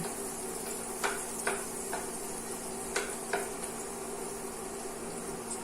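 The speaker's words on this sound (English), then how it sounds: "Put that right in the same skillet. Let that butter melt." Plant-based butter melts in a skillet with a soft, steady sizzle and hiss. A few sharp light clicks and taps of a utensil sound against the pan, and nobody speaks.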